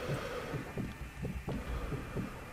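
A heartbeat effect in the Sniper Elite 2 video game, with slow, steady low thumps in paired beats repeating about every half second over a droning background hum.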